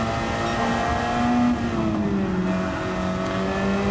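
A race car engine in a racing video game drones loudly at steady high revs, its pitch dipping briefly as it shifts, with no talk.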